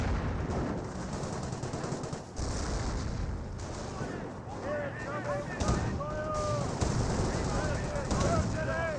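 Machine gun and rifle fire rattle through a battle in the game Company of Heroes, with rapid bursts and scattered shots running steadily throughout, and a commentator talking over the combat.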